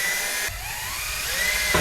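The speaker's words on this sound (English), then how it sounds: "So all we gotta do is drill a hole for this to poke through." A power drill boring a hole through a truck bumper, a steady whining hum with a pitch that shifts as the bit cuts, running close and continuous with a brief change partway through.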